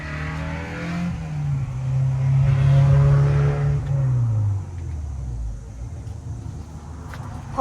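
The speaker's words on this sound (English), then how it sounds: "Pardon my noisy cars up and down the road." Several cars drive past on a nearby road beside a patio garden, loud engines swelling and fading one after another, with a strong whoosh peaking midway before a quieter rumble trails off.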